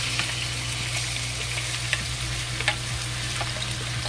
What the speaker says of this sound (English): When the oil is hot, we add the pork into the